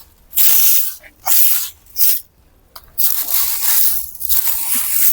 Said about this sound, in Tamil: இப்போ தண்ணி ஊற்றணும்